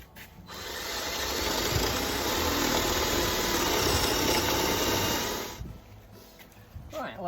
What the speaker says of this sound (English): that's got a hole drilled in there